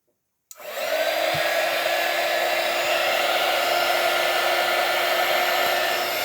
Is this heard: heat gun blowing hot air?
yes